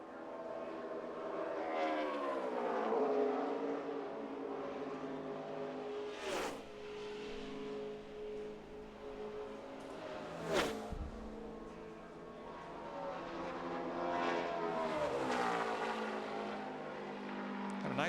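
A NASCAR Nationwide race car on a qualifying lap at Darlington roars at full throttle, the engine note swelling and fading as it passes, with broadcast commentary faintly underneath.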